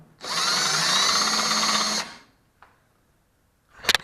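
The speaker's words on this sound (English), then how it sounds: "I'm just going to take a 1/2-inch drill bit" A power drill with a 1/2-inch bit marks a pilot hole, whining in one steady run of about two seconds close up, followed by a faint tap and a short sharp burst of rattling contact.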